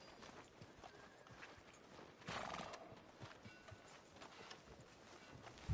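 Horse hooves clopping in the Western video game Red Dead, a steady run of soft hoofbeats under continuous ambient game noise, with a brief louder burst midway.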